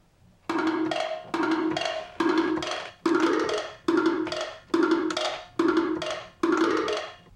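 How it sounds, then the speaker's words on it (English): A sampled conga pattern repeats eight evenly spaced hand-drum hits, each a full resonant slap with a short tail, steady and upfront with nothing else playing. "just a pattern of a Congo sample that I have"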